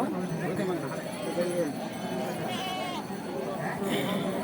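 Goats bleating at a crowded goat market before Eid, several calls over a steady murmur of people talking and distant bustle, with faint hoof and trampling noise.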